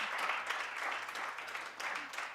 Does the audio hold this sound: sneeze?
no